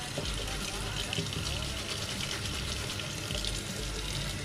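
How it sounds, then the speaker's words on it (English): Running water pours steadily through a high-flow air intake filter as it is rinsed from the inside out, a loud continuous gushing splash close by that fills the whole moment, with a voice faintly underneath. "try and rinse from the inside out first"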